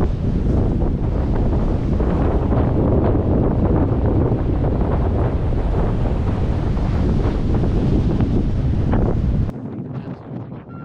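Strong 35-knot wind at a Bahamas dock with waves crashing on breakwaters: loud, continuous roaring gusts buffeting the microphone and a broad surf wash, dropping abruptly near the end.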